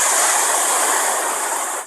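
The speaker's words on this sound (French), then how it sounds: "J'entends le bruit des vagues." A steady, hollow rushing hiss, like distant surf held close to the ear, continuous and fairly loud with no voices.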